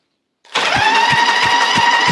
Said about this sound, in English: And it cranks. Not bad for 31 years of sitting around.